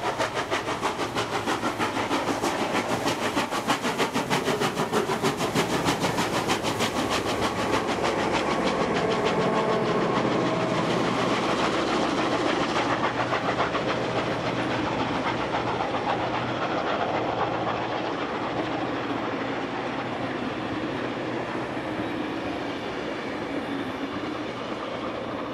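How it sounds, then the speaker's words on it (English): A train rumbles past Falcon Bridge in New South Wales steadily and loudly, with rhythmic clattering of wheels over rail joints that slowly fades toward the end. "Next we see the train passing Falcon Bridge."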